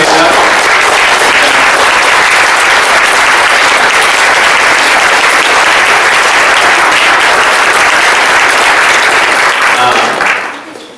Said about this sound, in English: would you please stand up so that we can clap for you and honor you?